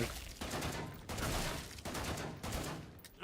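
Burst gunfire in a co-op survival action game with mutants: rapid volleys of shots come in several loud, dense bursts, separated by brief dips, filling the moment without speech.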